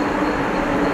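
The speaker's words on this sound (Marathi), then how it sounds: "ठाण्यावरून वाशीकडे जाणारी ट्रेन आलेली आहे" A Mumbai suburban train on the Thane to Vashi line sits at a station platform, giving off a steady, loud, close rumble with no voices.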